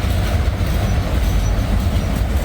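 A Norfolk Southern freight train rolls steadily past close by, a loud continuous low rumble of wheels and cars with faint rail hiss and no voices.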